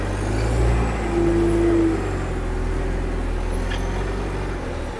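An abandoned digger's engine runs steadily as the machine drives in a loop, a continuous low rumble with a brief rise in pitch near the start, close and fairly loud.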